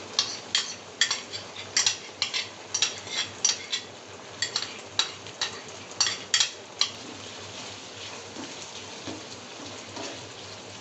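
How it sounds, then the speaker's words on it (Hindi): A spoon scrapes and clinks against a pan while ketchup and cornflour are stirred together, a run of sharp, irregular taps and scrapes that fades toward the end, heard alone without talk. "चम्मच मुसलसल चलाना है"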